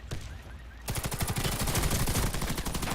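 Gunfire in the first-person shooter Warface, a rapid automatic burst from a starter weapon that fires in a steady staccato for about two seconds, loud and close.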